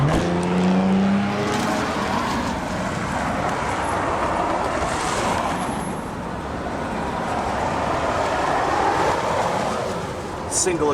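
A 2021 Toyota Corolla XSE Apex with a single exhaust gives a steady, broad, rushing engine-and-road roar that holds constant for several seconds, close and fairly loud, with no speech.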